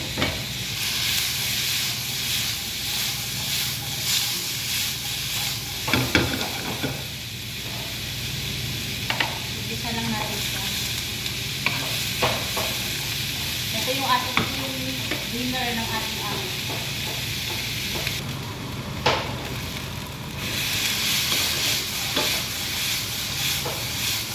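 Carrots and beans sautéing in a hot pan, a steady broadband sizzle with frequent scraping stir strokes and clinks of a utensil, continuous and fairly close throughout.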